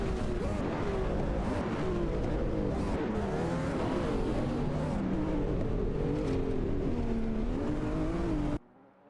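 Race cars, including a Ford GT and a McLaren F1 GT, run on track in a racing video game, with a loud, continuous engine drone whose pitch rises and falls before it cuts off abruptly near the end.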